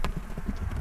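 A horse galloping uphill, its hooves giving quick, close clip-clop beats in a short, dense burst.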